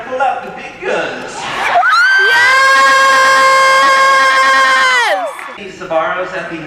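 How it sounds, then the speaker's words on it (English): A crowd at VidCon 2019 lets out a long, loud sustained shout with cheering and whooping, preceded and followed by shorter excited voices and a few laughs. "Crowd."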